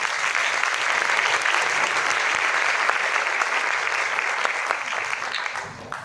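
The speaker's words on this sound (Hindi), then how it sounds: "एक बार अपने लिए जोरदार तालियां बजाएं।" A seminar audience claps for itself after a motivational speaker asks for loud applause, a dense steady wash of many hands that runs the whole stretch and thins out near the end.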